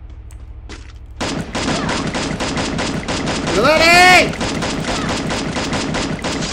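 Continuous rapid video game gunfire in Free Fire rattles for several seconds while someone shouts briefly, with a swelling whine of effects midway through.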